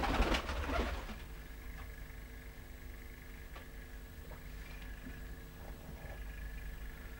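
Pigeons coo softly near a home with a steady low hum in the background, their murmuring calls continuing under a brief louder rustle at the start.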